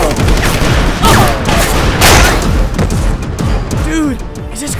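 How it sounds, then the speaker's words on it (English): Cartoon gunfire from an animated comedy, a dense loud burst of rapid shots and booms with voices shouting over the barrage. "Who are we shooting at?"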